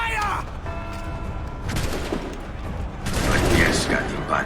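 A loud volley of gunfire in a video game, bursts of rapid shots and mechanical clatter swelling toward the end, with voices heard briefly near the start.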